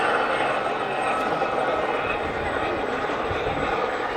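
A Royal Marine Gazelle helicopter flies at the Yeovil airshow, a steady turbine and rotor drone with broad wind-like noise running throughout.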